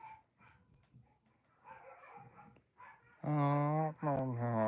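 Puppies bark and yelp close by, starting with faint scattered yips and rising to loud, sustained whining barks in the last second and a half.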